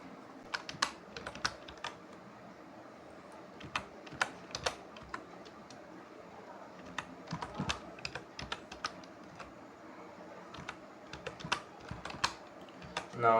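Rapid typing on a computer keyboard while writing login code, irregular clusters of crisp, close key clicks with short pauses between bursts, and no voice over it.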